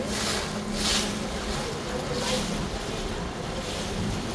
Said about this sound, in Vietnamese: Rộng này sóng rất lớn nhá.